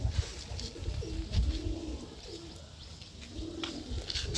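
Andhra pigeon cooing, a large long-bodied breed kept in a pigeon loft: several soft, rolling coos repeat at an even pace, close and moderately loud, with no talking over them.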